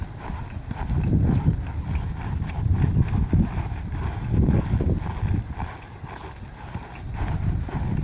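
Steady clip-clop of horse hooves trotting in an even rhythm, with wind and rustling noise underneath.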